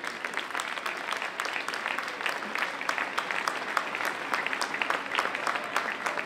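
Steady, dense audience applause at the Notte Rebelde concert in Bologna, dedicated to three workers who died, sustained clapping from a crowd throughout.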